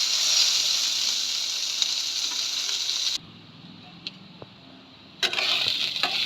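Onions fry in a pan over a high gas flame, giving a steady, loud sizzle that drops away for about two seconds in the middle and then returns.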